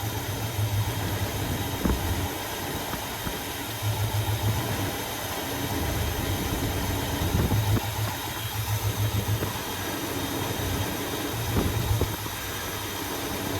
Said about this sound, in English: Look how much the engine is shaking,